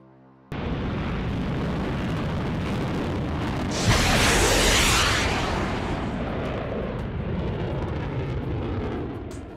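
AIM-120 AMRAAM missile launch in a combat flight video game: a loud, sustained roaring rush begins abruptly and swells into a bright whooshing burst a few seconds in, then settles into a steady heavy roar with no talking.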